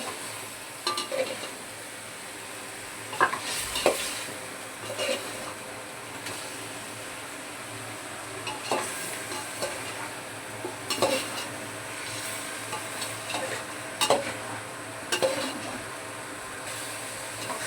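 A biryani mixture is stirred in a metal pot. A soft sizzle runs under scattered scrapes and clanks of a utensil on the pot, with a few louder knocks.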